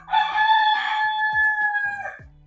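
A rooster crows once in a long, loud, sustained call lasting about two seconds, close by, with no talking over it.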